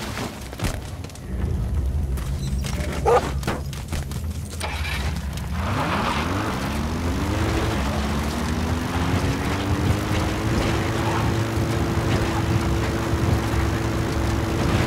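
A support helicopter arrives in Metal Gear Solid V: The Phantom Pain. Its loud engine and rotor drone rises steadily in pitch and then holds an even whine over continuous background noise.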